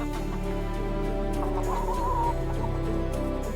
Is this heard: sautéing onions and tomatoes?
no